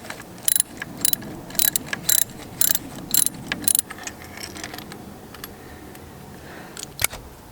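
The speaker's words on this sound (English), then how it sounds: "In the tool roll under the saddle, you should be able to find the spark plug tool, so you can use that to get the old ones out." Spark plug tool working old spark plugs loose on a Kawasaki ER-6n motorcycle, giving a rapid series of sharp metallic ratchet clicks up close that give way to quieter handling and a final click.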